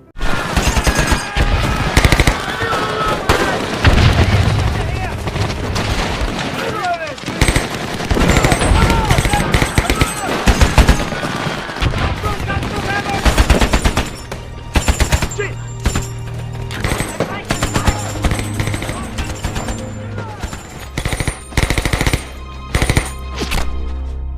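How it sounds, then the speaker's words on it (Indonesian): Heavy bursts of machine-gun fire and scattered rifle shots crackle continuously in a battle between Japanese soldiers and Australian guerrillas in New Guinea, loud and close, with rapid repeated volleys and occasional single cracks. "Di pertempuran tersebut, Buck tewas terkena tembakan dari para tentara Jepang."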